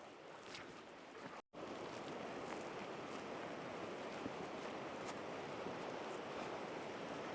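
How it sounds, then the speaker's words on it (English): Fast-moving water rushes steadily near a cave entrance, a dense, even hiss of flow that fills the space and breaks off once briefly before resuming at the same level. "You can hear the water starting to get faster"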